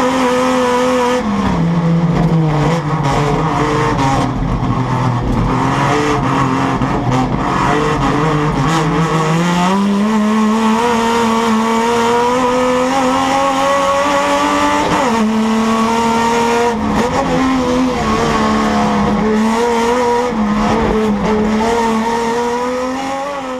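A race car at full throttle on a racing circuit, heard onboard and up close: a loud, sustained engine howl that rises and falls with gear changes and cornering for over twenty seconds, with no talk.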